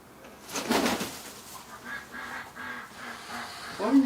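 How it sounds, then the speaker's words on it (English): A nesting duck near a goose gives a series of short, raspy honking calls close by, evenly spaced, with a louder burst near the end. "What are you doing, duck?"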